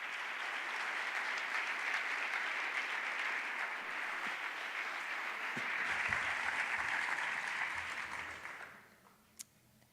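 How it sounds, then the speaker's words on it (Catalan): Sustained audience applause fills a theatre for the school's director at a 50th-anniversary event for a school in Reus, steady and dense for about nine seconds before tapering off quickly. "Fort aplaudiment per la Elo Seguranyes."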